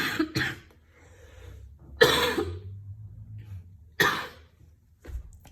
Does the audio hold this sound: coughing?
yes